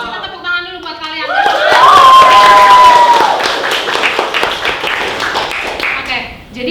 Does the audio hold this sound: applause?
yes